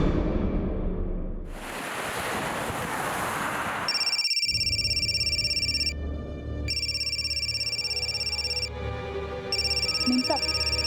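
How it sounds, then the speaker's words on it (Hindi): A mobile phone ringtone plays in repeated bursts in an indoor room, starting after a short rush of broadband noise and pausing briefly between rings, fairly loud and close. "साहब, आपका फोन बहुत बज रहा है।"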